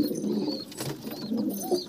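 Old desi pigeons and fancy pigeons in a loft, cooing in soft, throaty low calls, several overlapping close by in a steady murmur.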